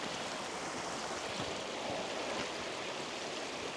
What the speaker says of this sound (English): Big waterfalls up here